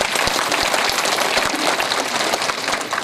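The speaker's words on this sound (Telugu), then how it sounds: "చప్పట్లు కొట్టుకున్నాం" An audience at a Lakshapushparchana puja festival claps steadily, a loud, thick wash of many hands near and far with no talking.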